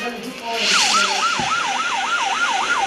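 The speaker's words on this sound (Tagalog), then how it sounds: "Dinig na dinig ang sirena" A loud wailing siren rises and falls in rapid, regular cycles, close by, after a brief horn-like blast at the start.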